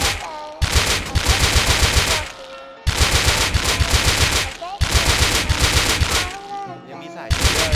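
AK rifle fired in the video game Rust, loud sustained automatic bursts of rapid shots separated by short pauses, with faint talk in the gaps.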